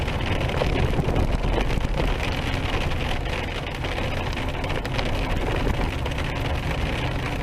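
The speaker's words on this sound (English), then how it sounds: "It's pouring rain." Heavy rain mixed with hail pounds on and around a vehicle, a dense, continuous roar of drumming that stays loud and unbroken throughout, with no speech.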